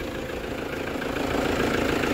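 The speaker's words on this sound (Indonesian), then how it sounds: "Inilah mesin Toyota Hilux Vigo dengan kode mesin 2KD 2500cc, sudah menggunakan turbo VNT" A Toyota Hilux Vigo 4x4 from 2014 with a 2KD 2.5-litre VNT turbo diesel idles up close, a steady rattling diesel clatter that grows slightly louder toward the end, with no voices.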